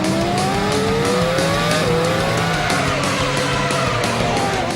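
Formula 1 cars from the 2007 season race through traffic, high-pitched engines screaming at speed with rising and falling gear-change whines, loud and continuous, several cars overlapping close by.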